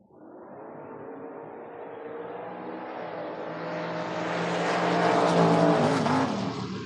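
Drag race cars, including a Camaro, launching at the 2024 FRBR Door Wars. The engines give a steady roar that swells to a loud peak near the end and then eases slightly, with no talk over it.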